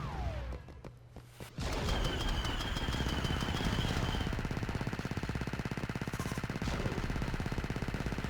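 Turret gunfire from the Star Wars Battlefront 2 video game, playing a D-Day mod: a dense, rapid stream of shots runs steadily and loudly after a brief lull, with mechanical whine and scattered distant explosions underneath.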